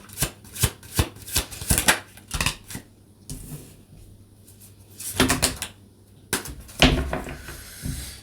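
Tarot cards shuffled by hand in bursts of crisp riffling and slapping, close and fairly loud, with short pauses between rounds and no talk.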